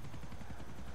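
Helicopter flying in GTA 4, a continuous pulsing rotor chop with a low rumbling drone, steady and fairly close, with no talk over it.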